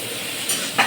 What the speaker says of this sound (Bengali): এবার আলুটা দিয়ে দিচ্ছি। আলুটা দিয়ে একটু ভেজে নেব।